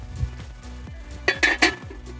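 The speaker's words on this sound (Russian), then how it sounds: "и накроем крышкой" A lid goes onto a cast-iron kazan cooking over an open fire, producing close metallic clinks and clatters over a low background rumble.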